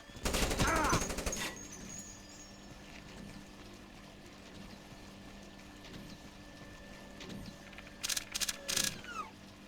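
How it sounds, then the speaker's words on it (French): Gunfire in the stealth video game Splinter Cell: a loud burst of rapid shots at the start, then a quiet stretch of ambient game sound, and a few more short sharp shots near the end. "Quelqu'un me tire dessus!"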